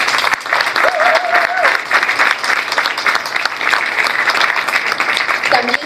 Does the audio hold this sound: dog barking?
no